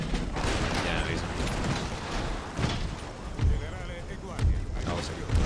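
Cannon booms and rattling musket volleys crash in Empire: Total War, with shouting voices mixed into the dense din of battle.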